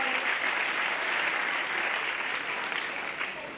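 An audience at a spoken inspirational talk claps in a steady, continuous wash of applause that fades slightly toward the end.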